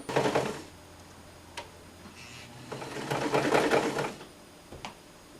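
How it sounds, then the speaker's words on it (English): Sewing machine stitching a quilt, running in two rapid, rattling bursts separated by a pause with scattered clicks, close and clear, with no talking. "let's get sewing!"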